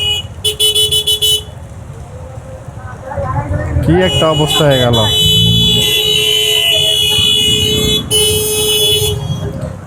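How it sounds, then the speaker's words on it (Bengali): Car horns blare in rainy street traffic, with loud bursts near the start and again near the end while someone talks in between over the surrounding road noise. "এই যে হর্ন না দিলে কাজ হয় না"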